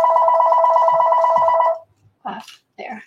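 A telephone rings with an incoming call, a loud steady electronic trill lasting nearly two seconds, then stops as a person begins speaking nearby.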